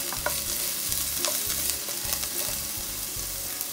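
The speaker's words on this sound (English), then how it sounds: "I'm gonna saute the vegetable" Ginger, garlic, onion and vegetables sautéing in a frying pan, a steady sizzle with repeated scraping stirs of the utensil, close and moderately loud.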